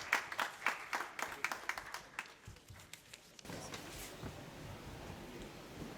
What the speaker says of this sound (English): let's welcome him with a very big round of applause